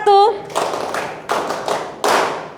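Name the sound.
hands clapping once in a classroom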